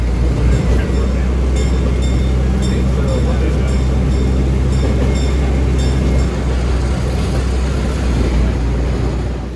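Steady rumbling rail noise from the Galloping Goose train ride at Knott's Berry Farm in motion, with clattering wheels and a constant engine drone, voices faintly mixed in.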